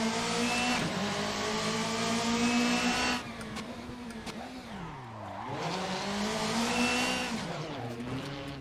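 A rally car in the Assetto Corsa racing game, its engine droning loudly and steadily, rising and falling in pitch with the revs, with a sudden drop in level partway through as the car shifts and slides.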